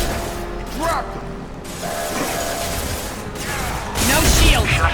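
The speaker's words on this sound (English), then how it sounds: "Get to the console and close that shutter before they can get through." A heavy metal shutter grinds and ratchets shut in the Mass Effect video game, with clanking mechanical bursts amid gunfire-like effects and game voices.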